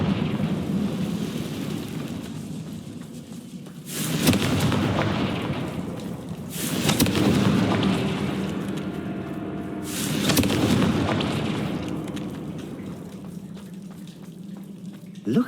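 The Confringo blasting spell detonates in Hogwarts Legacy, producing three loud, spread-out explosive bursts with rumbling tails over a low ambient hum.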